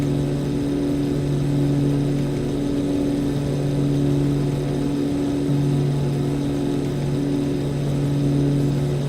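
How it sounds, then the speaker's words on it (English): An aircraft engine in Microsoft Flight Simulator drones on at a steady pitch, a loud, unbroken hum with constant tonal layers and no breaks. "I'm going to move to the front just because the engine sounds are a bit better"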